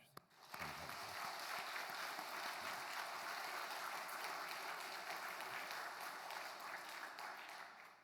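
A large church congregation applauds steadily for several seconds after a choir's hymn, a dense, even wash of clapping heard from within the room.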